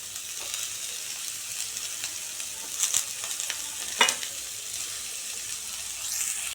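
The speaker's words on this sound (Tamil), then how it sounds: "இப்போ கட் பண்ணி வச்ச பீட்ரூட்டை இதில் சேர்த்திக்கலாம்." Steady oil sizzle and frying in a pan of sautéed onion, chilli and garlic as chopped beetroot goes in, with a couple of sharper splutters and stirring scrapes, no talk.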